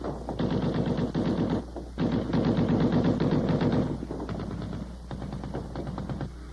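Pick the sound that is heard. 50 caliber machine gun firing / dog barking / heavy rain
50 caliber machine gun firing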